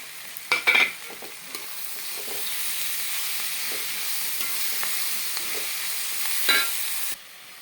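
Green chilli, ginger, garlic and curry leaves sizzle and crackle in a hot pan, a steady frying hiss with a few louder stirring clatters near the start and end before cutting off abruptly.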